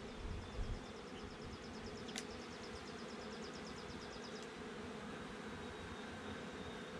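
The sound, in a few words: honeybees buzzing in an opened hive colony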